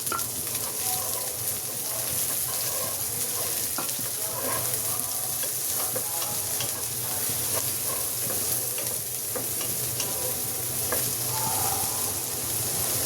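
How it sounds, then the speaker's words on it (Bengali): Chopped onions sizzle steadily in hot oil in a pan for shrimp bhuna, a continuous bright frying hiss with occasional pops and soft stirring, close and alone without talk. "এখন আমি পেঁয়াজটা দিয়ে দিচ্ছি"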